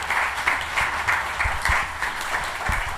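An audience applauds writer Anthony Joseph with moderate, evenly paced clapping in repeating swells, some claps standing out close and sharp.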